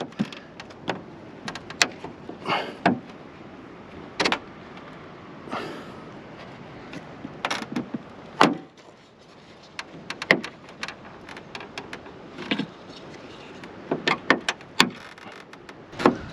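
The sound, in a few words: plastic clips popping as brake light trim separates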